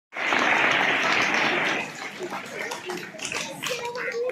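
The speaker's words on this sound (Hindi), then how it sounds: "तालियों से स्वागत करें" A loud burst of applause at a Republic Day gathering in a village school, Rah Inter College, rises sharply and holds for under two seconds, then fades into scattered claps beneath voices and chatter.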